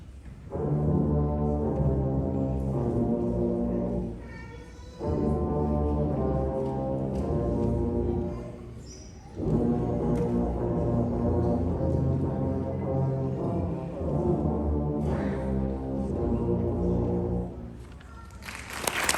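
A sixth grade school band with tubas plays Hot Cross Buns at a Christmas concert, three loud sustained low brass phrases of slow, steady notes separated by brief pauses.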